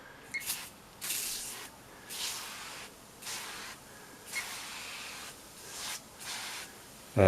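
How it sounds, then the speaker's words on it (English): About eight short hissing bursts of a spray nozzle applying foam cleaner to a 1976 Pye T184 television, separated by brief pauses, close and moderately loud. "you just give it a shake, spray it on."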